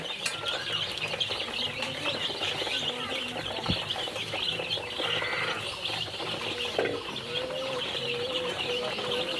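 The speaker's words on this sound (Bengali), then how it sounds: "প্রত্যেকটা মুরগি খাচ্ছে" Tiger breed chicks about fifteen days old chirp constantly while feeding on a poultry farm, a dense high twittering flock with occasional wing flaps and clucks and some faint background voices.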